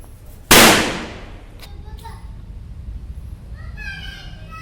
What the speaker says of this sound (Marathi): फटाके फोडायला चाललेलो आहे आम्ही